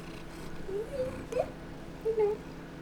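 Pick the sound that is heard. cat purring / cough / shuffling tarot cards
cat purring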